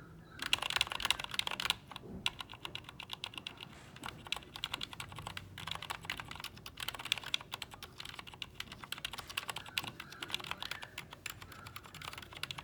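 Fast steady typing on stock MX Zilent Red switches in an Ergodox EZ keyboard, a dense stream of soft, muted key clicks and thocks at moderate volume with no voice.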